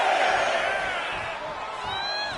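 A wrestling arena crowd in a WWE video game cheers and roars in a continuous loud swell, with a few whoops rising near the end.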